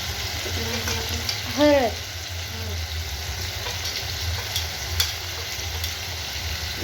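Cumin and spices sizzling steadily in hot oil for an egg curry, a continuous close frying hiss with one brief louder stir, while a voice says a word or two.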